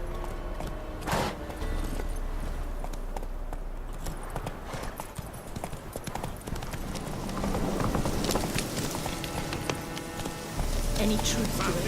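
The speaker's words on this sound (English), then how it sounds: "Run, Roach" Horse galloping in The Witcher 3, hooves clip-clopping in a fast rhythm on the ground, mid-distance, layered under game music and character dialogue.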